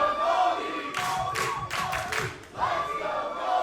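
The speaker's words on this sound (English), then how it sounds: "now you hear the crowd getting solidly behind David Goldy here" Crowd at a Monster Factory Pro Wrestling match cheering and shouting loudly, with bursts of yelling and thuds rising and falling over a few seconds, dense and close.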